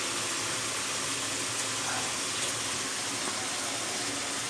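Broth poured into a fish and potato curry, a dense continuous rushing pour of liquid at steady loudness from start to finish, close and alone.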